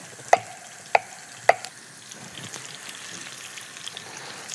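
A spoon scrapes three sharp strokes against a pan while salmon basil ragout with butter sizzles softly, followed by gentler stirring and quiet bubbling.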